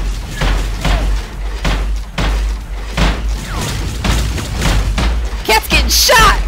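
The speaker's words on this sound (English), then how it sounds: "There's so many explosions!" Repeated booming explosions in the Spider-Man 2 video game, loud thuds and crashes coming in quick succession through the whole stretch, with bursts of shattering and blasting noise near the end.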